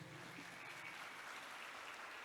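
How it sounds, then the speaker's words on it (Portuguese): A church congregation applauds together during a prayer group service, a steady, even wash of clapping that holds at a moderate level throughout with no voices over it. "Vamos aplaudir a palavra de Deus?"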